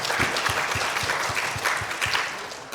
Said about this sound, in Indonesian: Luar biasa, kita beri tepuk tangan yang meriah.